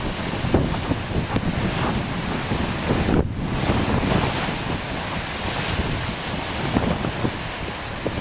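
Ocean surf roars steadily with waves breaking continuously, heavy wind buffeting the microphone throughout and a brief dip partway through.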